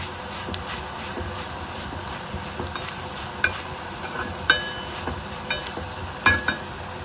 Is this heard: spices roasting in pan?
yes